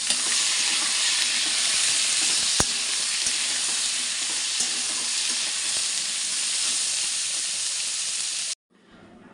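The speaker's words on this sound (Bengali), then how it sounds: "চলো পেঁপেটাকে আগে ভেজে নিয়ে তুলে রাখি" Papaya pieces fry in a pan with a loud, steady sizzle and hiss that carries on for several seconds and then cuts off abruptly, with one sharp click partway through and no voices.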